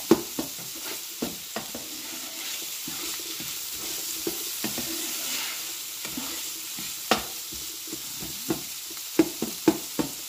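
Beyond Meat plant-based sausage browns in a pan with vegetables, giving a continuous close sizzle punctuated by sharp spatula scrapes and taps at irregular intervals, with no voices.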